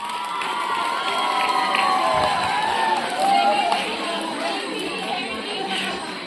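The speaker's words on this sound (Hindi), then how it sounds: "जोरदार तालियां।" Students at a school quiz competition cheer and clap loudly, a lively crowd roar with children's shouts and chatter mixed into the clapping, staying close and energetic throughout.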